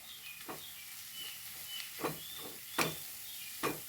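Coriander powder and pepper powder frying in a pan for chana masala, a faint continuous sizzle and hiss broken by a few soft scraping strokes of a spoon as the spices are stirred, spaced about a second apart.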